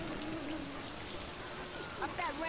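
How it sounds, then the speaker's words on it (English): Rain falling in the Left 4 Dead 2 game during the Hard Rain campaign, a faint steady patter with soft voices and brief tonal game sounds mixed in. "it's raining finally"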